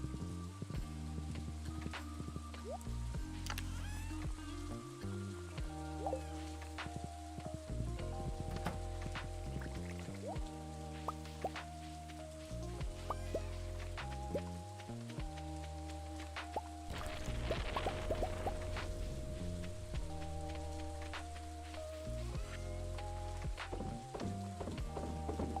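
Steady rain patters through the farming video game Stardew Valley, a soft continuous hiss of drops that sits under the game's looping music and bell-like melody for the whole stretch, with no talk.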